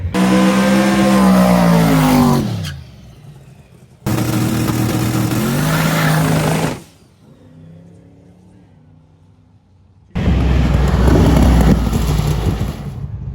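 Hot rod drag cars at a drag week event roar through loud, rising acceleration runs in three bursts, with a quieter engine idling between them.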